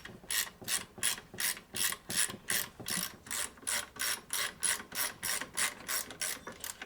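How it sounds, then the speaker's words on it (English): A ratchet wrench loosens a bolt during teardown of a McCulloch Pro Mac 10-10 chainsaw, producing a close, steady series of crisp clicking bursts in a regular back-and-forth rhythm with no talk. "you can remove this bolt"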